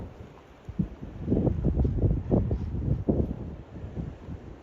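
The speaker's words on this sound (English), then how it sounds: "Still snowing and sunny and windy." Gusty wind during a snowy, sunny March storm in Vermont buffets the microphone in uneven, rumbling bursts, with a steady low roar and fluctuating intensity throughout.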